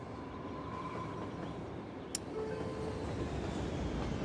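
A train rolls along a line in the city-building game Cities: Skylines, giving a continuous low rumble with faint rail clatter, a sharp click partway through and a slightly louder passage toward the end.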